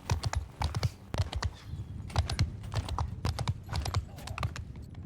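Horse hooves clip-clop in the video game Bannerlord during a cavalry siege fight, a rapid steady patter of hoofbeats close by over a low rumble of background battle noise.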